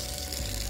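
A tap at a campervan service point runs with a steady, dense hiss of flowing water, close and continuous for under a second, no voices over it.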